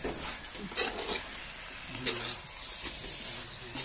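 Potatoes and cauliflower stirring and sizzling in a hot pan, with a utensil scraping and clinking against the metal now and then under a steady frying hiss.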